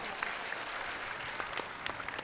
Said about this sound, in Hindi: वाह, ताली बजाओ।